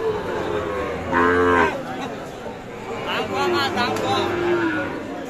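At a busy cattle market in Aftabganj selling Sahiwal calves, a cow lets out a loud, close moo. Another drawn-out lowing follows later, over constant crowd chatter and people talking nearby.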